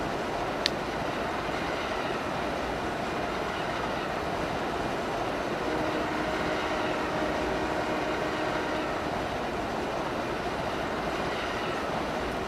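A train in a railroad video game speeds along at high pace, giving a steady, continuous rumble with a faint whine, even in level and unbroken for the whole stretch.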